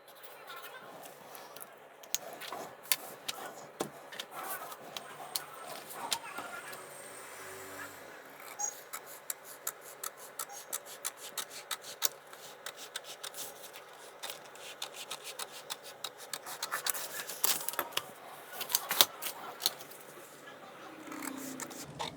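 Scissors cutting tailoring fabric along a marked size-44 pattern, giving repeated crisp snips and rustling cloth close by. They come in dense bursts through much of the stretch, with talk at times.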